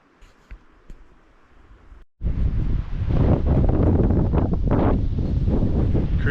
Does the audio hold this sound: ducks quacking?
no